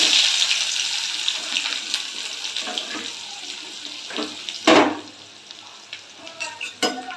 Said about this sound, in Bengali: এবার পেঁয়াজগুলো দিয়ে দিচ্ছি